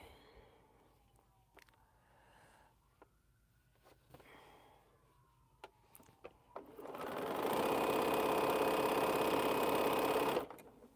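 A sewing machine stitching quilt squares starts after a quiet stretch of small clicks and sniffs, then runs loud and steady for about four seconds before stopping abruptly.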